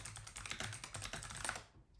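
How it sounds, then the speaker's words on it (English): Quiet, rapid clicking of keys on a computer keyboard, a continuous patter of typing that stops near the end. "try to avoid typing too much during this stream"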